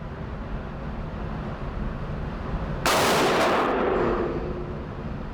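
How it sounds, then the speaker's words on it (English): A Tommy Built TG36K G36 clone rifle fires on a shooting range, one sharp, loud report near the middle breaking into a brief ringing decay over steady background noise. "I'll aim in the middle and send 3 more rounds"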